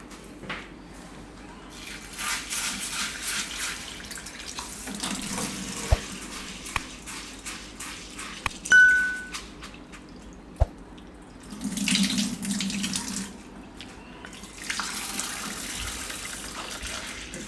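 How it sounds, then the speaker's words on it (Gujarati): Jowar (sorghum) grain washed under a running kitchen tap: water gushes and splashes into a container in bursts, with pauses, swirls and occasional clunks as the grain is rinsed several times. "તો પહેલાં આપણે આ જુવાર છે એને 2-3 પાણીએ ધોઈ નાખશું."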